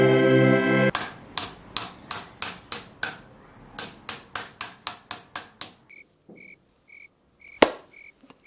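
Tonewood xylophone keys cut from pen blanks are struck one after another, a run of about a dozen sharp, ringing wooden knocks with short decays, then a few quieter tones and one last loud strike.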